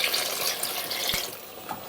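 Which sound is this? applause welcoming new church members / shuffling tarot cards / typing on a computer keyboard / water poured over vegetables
water poured over vegetables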